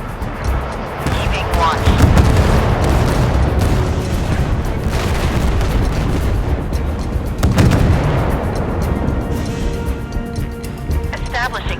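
Warship guns boom repeatedly during a naval battle in the game Force of Warships, with dense overlapping blasts and rumbling explosions under continuous loud action and a voice speaking over it.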